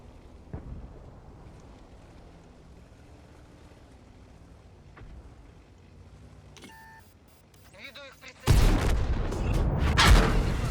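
A tank shell strike in World of Tanks during Object 907 gameplay, a sudden loud booming impact that erupts near the end after quieter background rumble, with a heavy sustained crash trailing off.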